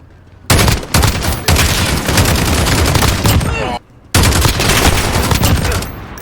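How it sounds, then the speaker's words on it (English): SA-87 light machine gun from Call of Duty: Modern Warfare firing loud, sustained automatic bursts up close, with one short pause before the rattle resumes. "So the next LMG is the SA-87"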